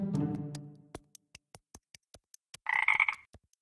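Cartoon frog in a children's video game: a low croak, then a run of evenly spaced ticking clicks, and a brighter chirpy croak near the end, all clear and close.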